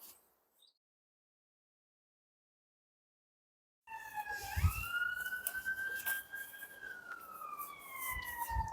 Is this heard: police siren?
yes